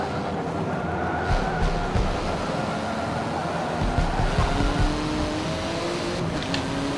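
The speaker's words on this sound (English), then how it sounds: "The backfire in this car." A car in the Forza 7 racing game roars at a steady high drone under acceleration. Faint crackles and pops from the exhaust backfire sit in the engine noise.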